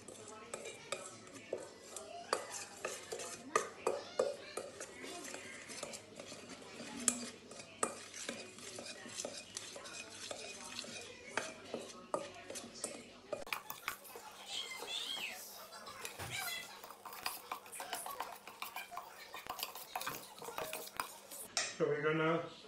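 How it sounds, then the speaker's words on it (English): Spices for an okra and onion dish are stirred together in a bowl with a spoon, making repeated close clinks and scrapes of metal on the dish in an uneven rhythm, with a brief louder burst near the end. "So we'll mix all the spices together."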